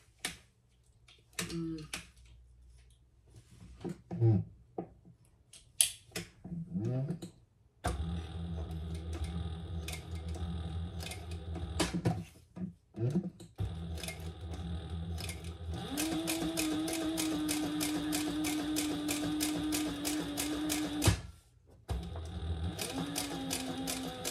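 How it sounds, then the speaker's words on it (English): A sewing machine runs stitches through a leather pouch in several bursts, with a long, steady, rapid run near the end and pauses between passes. "I'm just going to stitch an 1/8 inch inside that line"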